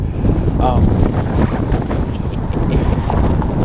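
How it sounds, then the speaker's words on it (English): Gusty wind buffets the microphone at a street corner in Austin, Minnesota, a steady rumbling roar throughout with a person talking over it. "It's a lot windier than this corner than it was on the other corner."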